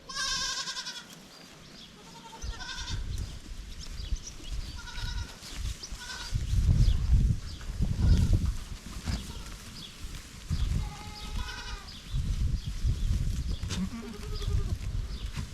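Goats bleat repeatedly in an open pasture on their first time out there, with several wavering calls at close and middle distance over low outdoor rumble and occasional shuffling.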